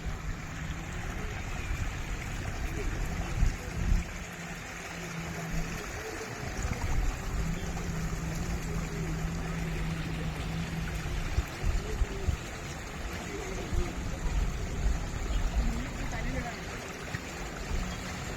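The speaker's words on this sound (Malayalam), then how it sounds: "ഈ വെള്ളച്ചാട്ടം നോക്ക്" Continuous rushing water of a waterfall at Kollengode, Palakkad, Kerala, steady and broadband, with a faint voice talking intermittently underneath.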